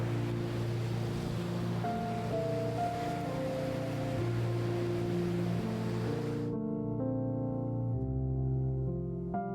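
Sea waves washing onto a rugged, remote beach on the Atlantic Canada coast, a steady broadband surf wash heard alone with no voices.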